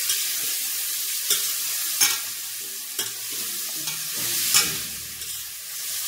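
Shrimp sauté in melted butter in a pan, a steady close sizzle broken by several sharp stirring scrapes and clicks spread through the stretch.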